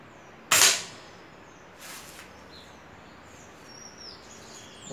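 A single sharp shot from a PR900 or homemade PCP air rifle cracks out loud and close, fading quickly, followed a moment later by a fainter second report against a quiet outdoor background with distant bird chirps.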